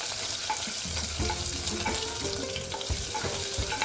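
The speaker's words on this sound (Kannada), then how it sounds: "ಬ್ರೌನ್ ಕಲರ್ ಆಗೋ ತನಕ ಫ್ರೈ ಮಾಡ್ಕೊಳ್ಳೋಣ" Onion and ginger-garlic paste with mustard seeds and cumin fry in a pressure cooker for veg biryani, giving a continuous close sizzle with a few soft stirring scrapes and no voices.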